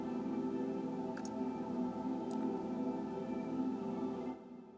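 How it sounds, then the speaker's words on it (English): A vocal cluster from a sci-fi short film score: a sustained, dense stack of voices holding close, slightly out-of-tune pitches, steady and otherworldly, with a couple of faint ticks, fading out near the end. "it's called vocal cluster, and it basically just sounds like this."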